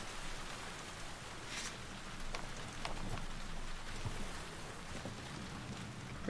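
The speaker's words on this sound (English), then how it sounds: "The rain's kind of nice." Steady rain in The Last of Us Part II falling on surfaces, a constant hiss with scattered drips and patters, moderately close and uninterrupted.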